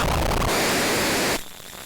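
Harsh noise static from a Moth Hunter Mods Razcalito effects pedal, a loud dense wall of hiss and crackle that holds for over a second, then drops abruptly to a quieter buzzing hum.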